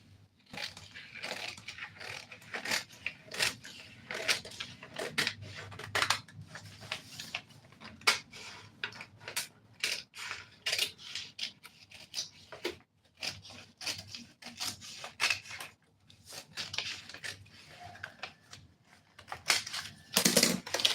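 Scissors cutting a one-shoulder blouse pattern: a run of quiet, irregular snips and rustles close by, with short pauses and no talk.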